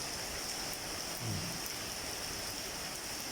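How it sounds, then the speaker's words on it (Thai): Heavy rain pouring outdoors, a dense, steady hiss of falling water with no voices, fairly quiet and unchanging throughout. "บรรยากาศฝนตกวันนี้ก็เอ้ยนี่นอนรับเย็นสบายนยวันนี้"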